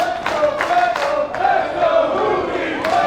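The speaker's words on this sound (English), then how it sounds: "the crowd split here between the two as the chants of Let's Go Fuego and Let's Go Juvi" A pro wrestling crowd chants in rhythm for Fuego and Juventud Guerrera, loud repeated voiced bursts from a packed arena, with the two chants splitting the audience.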